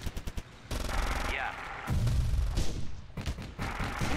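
In the WWII tank game Theatre of War, a BT tank comes under fire: rapid sharp bursts of gunshots open, followed by heavy, loud rumbling blasts and further shots in close succession.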